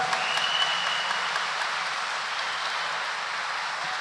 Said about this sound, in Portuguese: Dê uma salva de palmas para ele, gente.